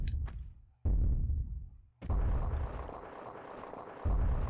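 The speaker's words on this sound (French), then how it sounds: "dernière cinématique où tout explose" Explosions in the final cutscene of the Tomb Raider video game: three heavy booming blasts, each rolling into a long rumbling roar, loud and close with no talk.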